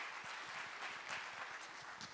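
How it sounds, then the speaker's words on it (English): An audience at a startup pitch event claps steadily and evenly, a full round of applause that continues without pause. "Come on, let's give them a round of applause."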